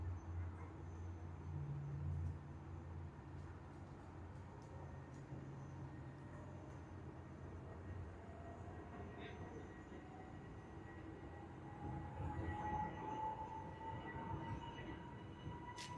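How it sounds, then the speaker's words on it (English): An Emirates A380 jet begins its takeoff roll at Sydney Airport, heard from a distance as a faint, steady low roar with a slowly rising engine whine building over many seconds. "Emirates has started its takeoff roll."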